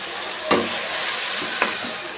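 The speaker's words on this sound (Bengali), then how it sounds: "মশলাটা হালকা ভেজে নিয়েছি" Spice masala stir-fried in a pan for a Bengali chicken curry, a steady sizzle broken by two sharp scrapes of a spatula, with no talk.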